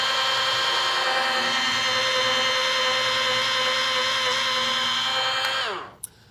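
A rotary polisher whirs at a low 600 RPM on car paint, a steady loud motor whine holding for several seconds before winding down and stopping near the end.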